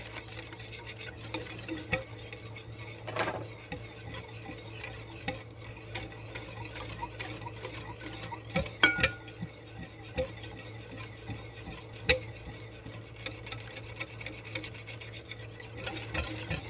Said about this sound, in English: what I'm going to do is mix this all together and incorporate this really, really good